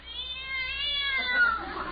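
A cat on a car meows in a drawn-out, wavering cry lasting about two seconds, fairly close and clear, with faint background hum and no speech over it.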